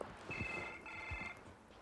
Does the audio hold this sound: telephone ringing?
yes